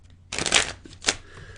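A pack of playing cards being shuffled at a live magic show: a close, crisp riffle of rapid flutters lasting about half a second, followed by a shorter second riffle, against quiet room tone.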